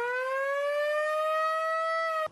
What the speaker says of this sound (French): La sirène vient de donner l'alerte.